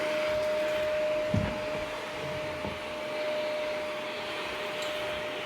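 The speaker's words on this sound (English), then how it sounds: "there's some underneath here that the vacuum just couldn't get" A vacuum cleaner runs continuously at close range with a steady whining drone, broken by a couple of soft bumps as it moves along the floor.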